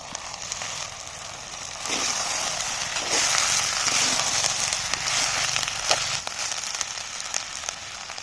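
Onions sizzling steadily in a hot pan as ginger garlic paste goes in, a continuous bright frying hiss with soft crackles rising slightly in intensity, close and alone.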